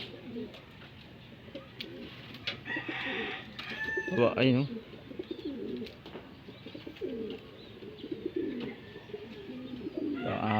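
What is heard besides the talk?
pigeons cooing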